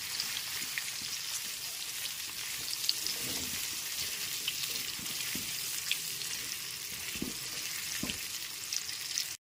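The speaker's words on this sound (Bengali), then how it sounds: "গ্যাসের ফ্লেমটা মিডিয়ামে রেখে একটু সময় নিয়ে আলুগুলোকে লাল করে ভেজে নিতে হবে।" Potatoes frying in oil with salt and turmeric over a medium gas flame sizzle loudly and steadily throughout, with a few soft clinks and stirring knocks and no talking.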